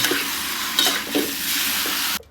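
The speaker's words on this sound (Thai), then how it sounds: "ตามด้วยการผัดเส้นใหญ่ ใส่ซอสซีอิ๊วดำหวานลงไป ผัดคลุกเคล้าให้เข้ากัน" Wide rice noodles are stir-fried with sweet dark soy sauce, a loud close sizzle broken by a few scraping spatula tosses before it cuts off sharply, with no talk.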